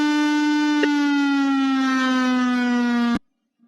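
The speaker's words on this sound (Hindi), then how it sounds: "यह जो है एक प्रकार की सायरन।" Loud, sustained wail of a civil defense siren used in a mock drill, holding a steady tone with a slight downward drift before cutting off sharply, leaving near silence.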